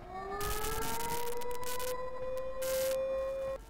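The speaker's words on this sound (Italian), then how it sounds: "Eccola qua la sirena." A civil defense siren in the Dreamcast game Shenmue wails with a sustained, slowly rising tone. Bursts of broadband noise sit over it until it cuts off near the end.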